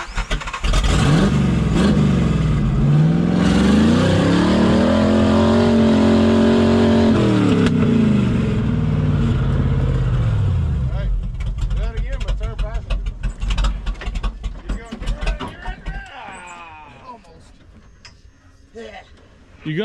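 An off-road vehicle's engine revs hard and loud, pitch climbing and holding as it strains up a steep trail hill, then easing off into rougher, fainter idling and rumbling, with voices talking over it.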